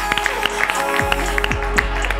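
Studio audience in a Spanish TV show claps together, a steady patter of many hands under sustained music.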